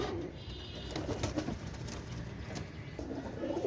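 Pigeons cooing close by, a single Royal Teddy male and a Salara Teddy female, soft low repeated coos over a light rustling background with no talk.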